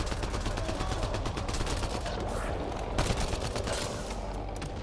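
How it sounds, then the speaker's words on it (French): Heavy gunfire from a colossus in the Mass Effect Andromeda video game, firing from range as a dense, continuous roar of shots and rumble with no clear gaps, loud throughout. "Et ça tire à distance, ce truc"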